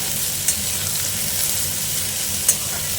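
Sliced bitter gourd and onions fry together in a pan, giving a dense, steady hiss of sizzling oil broken by two brief clicks from a spatula, close and alone.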